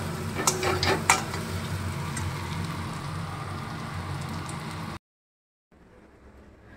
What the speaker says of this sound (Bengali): দুপুরবেলা রান্না করছি ডিমের কারি